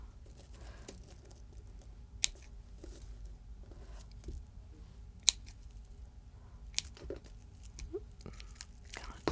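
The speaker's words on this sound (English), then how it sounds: "cut the ends of the strings" Scissors snip the ends of strings on a pine needle figure during a hands-on history craft: a few crisp, isolated cuts spaced several seconds apart over quiet rustling of needles and handling.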